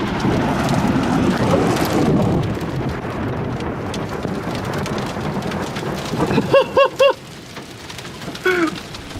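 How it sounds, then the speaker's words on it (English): Heavy rain and hail pound down during a storm in the mountains of Japan, a dense continuous roar that eases partway through, with a few short voiced exclamations near the end. "It's hailing, that's crazy."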